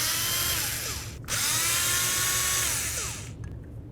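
A power tool whines close up while backing out the screws on a 1995–2000 Chevy Tahoe distributor: a high buzzing drill tone that dips briefly, revs again and then winds down, with no speech.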